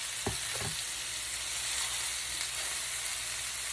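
Meatballs sizzle steadily in a hot pan, a dense continuous frying hiss with a couple of brief scraping or turning sounds near the start, close and fairly loud with no talking.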